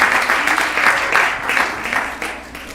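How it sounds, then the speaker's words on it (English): Audience applause at a live temple service, with a crowd clapping in a dense, steady patter that fades slightly toward the end, heard up close. "Let's give a big round of applause."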